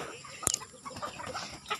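Chickens cluck faintly in the background of a backyard chicken coop in the province, with a sharp short sound near the start and soft scattered calls after.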